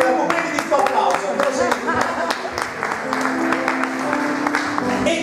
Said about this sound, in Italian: Facciamo un po' di questo applauso.